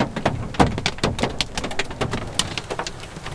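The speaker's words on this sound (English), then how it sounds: "Caught in massive hail." Hailstones pelt down in a massive storm in Yarrambat, a dense, rapid clatter of sharp impacts, loud and close with no speech.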